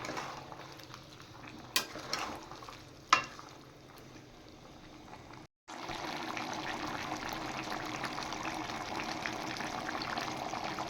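A paste of garlic, ginger and green chili hits a hot pan during chicken cooking, giving a brief scrape and clatter, a short pause, then a loud continuous sizzle close by.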